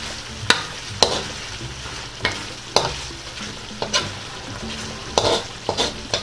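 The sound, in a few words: stirring bird's eye chili into coconut milk sauce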